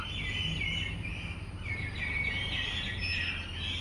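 Myna bird calls sound as repeated chirps and whistles over steady outdoor background noise, moderately close and continuing throughout without talk.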